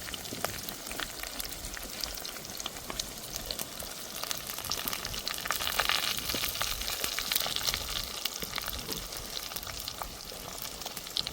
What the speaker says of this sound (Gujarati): પછી નાખી દઈશું કાંદા આપણે કાટિંગ કરેલા જાડા કાંદા છે નાખી દઈશું